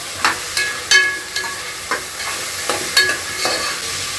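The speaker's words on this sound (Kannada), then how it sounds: "ಇವಾಗ ತರಕಾರಿ ಸೇರಿಸ್ಕೊತಾ ಇದ್ದೀನಿ ಕ್ಯಾರೆಟು ಬೀನ್ಸು ಮತ್ತು ಬಟಾಣಿನ ಚೆನ್ನಾಗಿ ಮಿಕ್ಸ್ ಮಾಡ್ಕೋಬೇಕು" Carrots, beans and peas fry in a pan for vegetable pulao, with a steady sizzle broken by repeated scraping stir strokes about every half second, close and clear, no speech.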